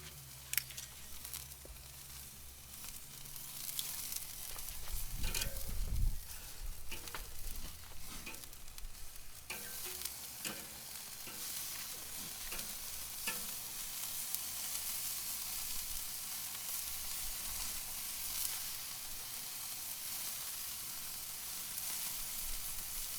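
Lamb kofta kebabs seasoned with ras el hanout searing in a pan: a continuous crackling sizzle, with a brief thump and stirring near the start before the frying settles into an even hiss.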